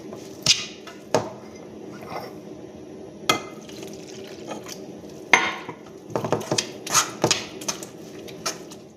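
Pazham pori batter being mixed in a bowl, a series of sharp clinks and scrapes of a utensil against the bowl, sparse at first and then more frequent, close and fairly loud.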